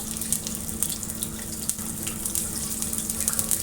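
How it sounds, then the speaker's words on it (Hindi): Onions sizzle in about half a cup of oil in a large pot on the stove, a soft, continuous crackling hiss with small pops scattered throughout. "अब सबसे पहले मैं इसमें डालूँगी प्याज"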